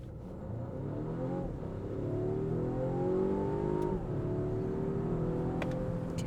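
A Volvo XC60 Recharge Polestar Engineered pulls away at full throttle, its drivetrain whirring and rising in pitch through the acceleration, steady and moderately loud from inside the car.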